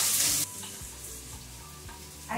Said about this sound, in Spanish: Hay que sofreír la cebollita